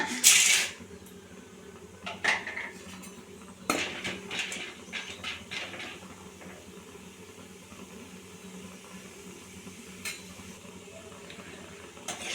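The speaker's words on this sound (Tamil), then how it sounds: "இப்போ பொட்டுக்கல்லையை வறுத்து எடுத்துக்கோங்க" Roasted gram (pottukadalai) tossed in a pan while it roasts, scattered metallic clinks and scraping rattles that start loud and taper off into quieter stirring over a low background hum, with no talk.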